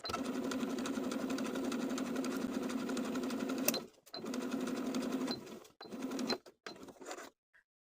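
Basting stitches run along the top of a sleeve on a sewing machine, heard as one long, steady, close mechanical whir followed by a few shorter bursts and stops.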